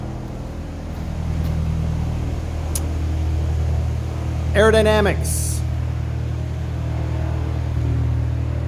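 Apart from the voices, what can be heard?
airplane flying past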